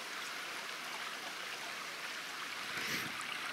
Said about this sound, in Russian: Брод преодолен, но вода, конечно, ледяная